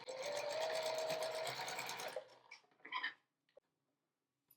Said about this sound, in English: we're just gonna sew right along that marked diagonal line